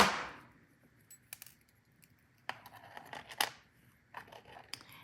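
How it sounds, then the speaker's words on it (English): Small cutting snips at jewelry wire while making earrings, a few faint, sharp clicks and snips spaced out over several seconds in a quiet room. "And then I'm going to cut off the excess wire."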